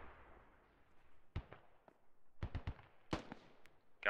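Distant RPG explosions and gunfire in the video game Squad: scattered muffled booms and sharp cracks, several in quick succession, fairly faint against a quiet background.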